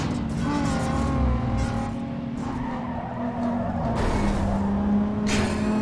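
An Audi race car engine in a sim racing video game drones steadily at high revs with tire skids and squeals, a continuous loud whine shifting slightly in pitch.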